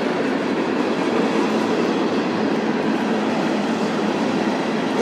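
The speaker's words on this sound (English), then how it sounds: "looking right at this big train that's roaring by" A long train roars past close by in Las Vegas, a dense, steady rumble of wheels and wagons holding at the same loud level throughout with no talking.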